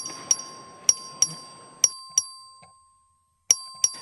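A clerk rings the voting bell in the Texas House chamber: a series of bright, ringing dings, about eight strikes at irregular intervals, each decaying quickly, with faint room murmur underneath.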